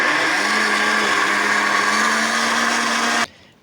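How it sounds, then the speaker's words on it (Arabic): Kitchen blender whirring at high speed as it mixes eggs, sugar and vegetable oil for an orange cake, a loud steady motor drone close by that cuts off abruptly near the end. "خلطت كلشي مزيان هكا في الخلاط"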